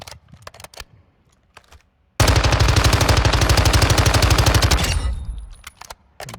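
SMG gunfire in Modern Warfare 2 (2022): a sustained, loud burst of rapid automatic fire runs about three seconds and then tails off, with a few sharp clicks and handling sounds before and after.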